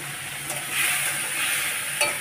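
Shrimp frying in a pan with a nigella seed tempering, giving a steady close sizzle with a brief stir or scrape near the middle and another at the end, no voices.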